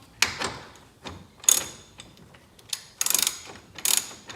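Ratchet wrench loosening 10mm bolts near the AC fan relay of a 2007 Audi, heard as several short bursts of rapid close clicking separated by brief pauses.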